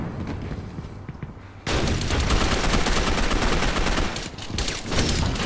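Sustained gunfire from an online match of the video game Gotham City Impostors: a quieter stretch gives way after about a second and a half to dense, loud, continuous rapid shots that carry on nearly unbroken to the end, with no talking.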